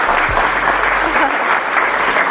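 High school students at Mbee High School clap in a brief, dense burst of applause at a personal development talk, continuing loud and even to the end.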